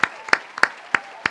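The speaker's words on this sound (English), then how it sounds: "I got to give y'all a round of applause" A short round of applause, heard as a few slow, evenly spaced sharp hand claps, close and distinct, with no talk over them.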